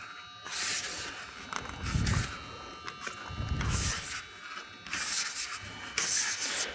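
Hand tin snips chew through thin metal F-trim for soffit and fascia work in several close, rasping bursts, each a gritty scrape with short pauses between, and no one speaks.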